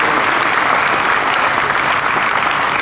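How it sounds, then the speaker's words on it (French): Loud, dense audience applause at an Insidears convention about Disneyland Paris, continuous crowd clapping filling the room without pause. "on peut les applaudir bien fort"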